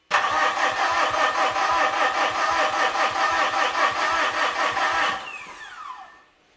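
Fuso FG truck with a 4P10 diesel engine and a suspected faulty CP4 high-pressure fuel pump, cranking steadily and rhythmically for about five seconds without catching, then the starter winds down to silence.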